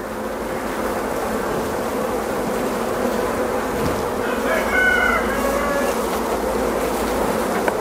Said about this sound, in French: je vais essayer de ne pas écraser les abeilles